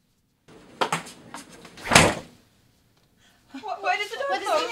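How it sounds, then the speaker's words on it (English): A door closing in a student short film: a few soft knocks and rattles build to a louder thud, then silence before people start talking. "Why did the door close?"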